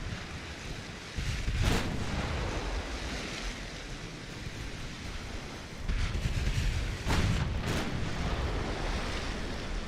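A naval torpedo detonation in Ultimate Admiral Dreadnoughts, heard as a deep, surging roar like breaking surf, with a few sharper bursts swelling over steady rumbling water noise and no voices.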